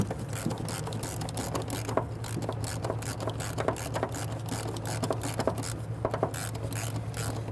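Ratchet wrench working a shock absorber nut on a 2008–2013 Infiniti G37, a fast, continuous clicking rattle over a low hum, close and fairly steady throughout.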